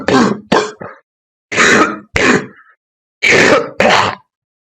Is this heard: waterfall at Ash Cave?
no